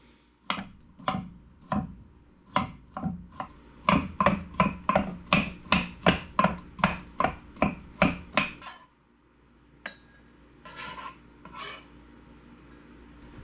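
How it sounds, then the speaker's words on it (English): Fast knife mincing on a cutting board while preparing green beans for a stir fry: a steady run of crisp chops that quickens into a rapid burst, then stops, leaving a few faint scrapes. "mince it up"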